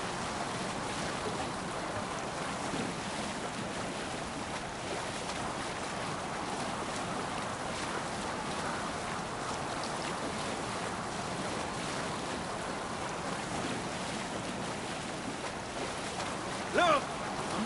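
Viking ship rowing across the sea in Assassin's Creed Valhalla, a continuous wash of waves and wind rushing steadily for the whole stretch, with a brief soft knock near the end.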